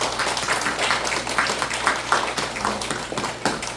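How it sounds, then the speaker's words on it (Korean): A church congregation claps together at the close of a Sunday worship prayer, a steady wash of many hands at moderate volume with a faint low hum underneath. "박수."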